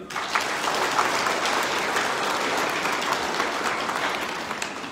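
A church congregation applauds during Mass, a steady, dense round of clapping from many hands that holds evenly for the whole stretch before tapering slightly at the end.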